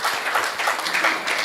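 An audience at a comedic Hindi poetry event applauds, a short burst of scattered clapping that swells and fades.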